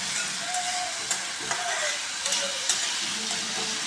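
Sabudana sautés in a pan with a loud, even sizzle, punctuated every second or so by light ticks and scrapes from a stirring spoon.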